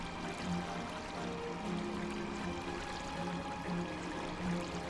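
Water being sucked up in The Brew Barons, a soft, continuous liquid rushing and gurgling stream at low volume with faint tonal game music underneath.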